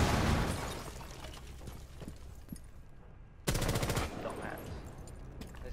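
Rainbow Six Siege gunfire: bursts of automatic shots with rapid repeated cracks, a quieter stretch, then a loud close volley near the end, with faint voices underneath.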